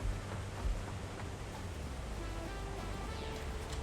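Steady broadband rushing of a waterfall in the Satisfactory factory game, a continuous roaring wash of water filling the whole clip at an even, moderate level with no talk.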